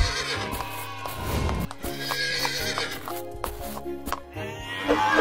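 A horse whinnies loudly near the start, followed by a run of clip-clopping hooves with sharp, irregular knocks. The sounds come up close and alone, without talk.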